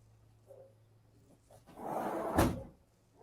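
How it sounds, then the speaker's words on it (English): An interior door is pushed shut at home, a soft sweep of movement building to one dull thud near the end, close and moderately loud with no talk over it. "Let me close this door."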